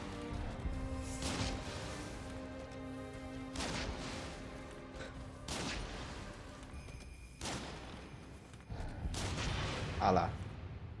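Gunfire in the video game Nioh 2 comes as a scattered series of sharp, crashing bursts at irregular intervals over a steady bed of game ambience, moderately loud.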